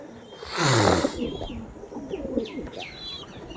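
A pair of Andhra pigeons coo in a loft, with a loud burst of noise near the start followed by several short chirpy calls close by.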